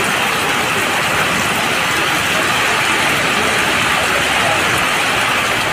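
Heavy evening rain pours steadily in Tamil Nadu, a dense, continuous wash of noise at close range with no pauses, no voices and no distinct drops standing out.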